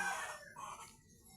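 A hen near a home at morning gives a short, fairly faint clucking call that trails off quickly into quiet surroundings, alone without voices.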